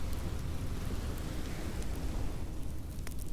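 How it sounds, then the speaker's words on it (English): Steady rain falls continuously, a dense hiss of drops with a low rumbling undertone and no voices. "Their steps fade into the sound of the rain."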